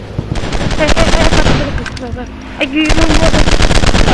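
Bursts of automatic gunfire ring out in an FPS commando shooter game, loud and close, with rapid volleys broken by a short pause and game voices calling out between them.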